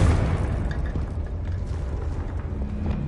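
The Confringo fire spell in Hogwarts Legacy bursts with a heavy, low rumbling blast that rolls on through the short moment, with faint mechanical rattles layered over it.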